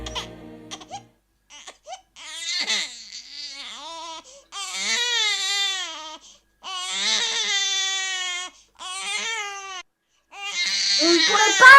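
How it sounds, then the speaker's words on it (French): A baby cries loudly in repeated drawn-out wails at a Christmas play, each long bawl separated by short quiet gaps, standing out with no talk over it. "le bébé se réveilla et se mit à crier"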